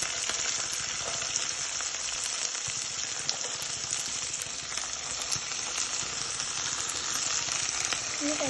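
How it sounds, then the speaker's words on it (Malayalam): Garlic and green chillies sautéing in a hot pan for garlic pickle, a steady bright sizzle and crackle of frying close up, with occasional stirring and no talk. "പച്ചമുളക് ഇട്ട് ചെറുതായി ഒന്ന് വഴറ്റി കൊടുത്തതിന് ശേഷം നമ്മൾ കഴുകി വൃത്തിയാക്കി വെച്ചിരിക്കണ വെളുത്തുള്ളി ഇട്ട് കൊടുക്കാം"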